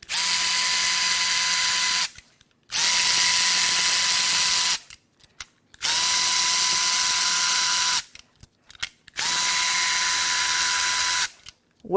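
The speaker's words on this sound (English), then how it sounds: "The next first thing I'd like to do is remove the spark plugs to see how they look." Cordless power tool removing spark plugs from a Chevy Malibu 1.5 engine, four close, steady whirring bursts of about two seconds each with short pauses between, alone without talk.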